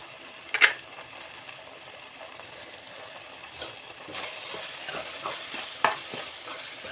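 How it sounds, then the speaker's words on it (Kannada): Mutton brain bheja masala frying in a pan, a low, soft sizzle with a couple of sharp utensil clinks and intermittent stirring scrapes at close range. "ಇನ್ನೂ ಕುಕ್ ಆಗಬೇಕದು, ಇನ್ನೂ ಫ್ರೈ ಆಗಬೇಕು."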